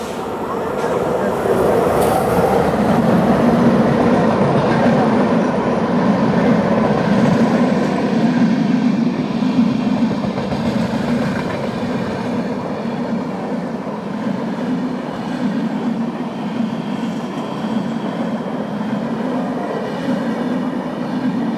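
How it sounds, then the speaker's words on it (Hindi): The Durg–Puri Express rolls past on Indian railway tracks, a loud, sustained rumble of wheels and coaches that holds steady for the full pass. "तो ये है दुर्ग पुरी एक्सप्रेस"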